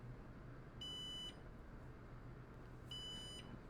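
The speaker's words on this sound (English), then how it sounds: "if the NAS is beeping because maybe you pulled out a hard drive" A Synology NAS gives a fault alert after a hard drive is pulled, sounding two evenly spaced, high-pitched electronic beeps over a steady low fan hum.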